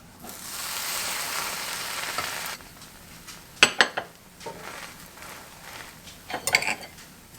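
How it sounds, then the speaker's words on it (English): A fried jelly sandwich cooking in a pan in an Appalachian kitchen: a loud, close sizzle at first, then it fades and gives way to scattered utensil clinks and scraping taps against the pan. "And we just got to fry it."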